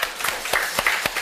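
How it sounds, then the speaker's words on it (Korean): Congregation clapping during a Korean church service, a short burst of applause with several distinct hand claps popping out at an uneven rhythm over a steady patter, fairly close and loud. "찬양 받으신 하나님께 감사의 영광의 박수 올려드리겠습니다."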